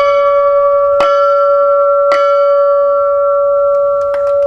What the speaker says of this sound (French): Donc la cloche là est brute de fonderie. Elle était calculée pour un mi de la 5e octave.